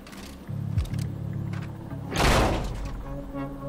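A door slides open in the Quantum Break video game, a low mechanical hum and clunks followed by a loud whooshing thud, with faint background tones.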